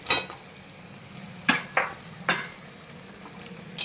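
A hilsa fish head fries in a pan under a soft, steady sizzle, with a few sharp metallic clanks of a utensil against the pan spaced through it.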